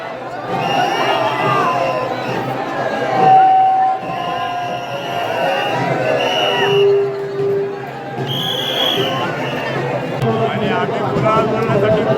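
Large, noisy crowd at the Shri Kalbhairavnath yatra in Sonari, a steady babble of many voices with shouts and scattered whistles around the temple chariot, close and loud throughout.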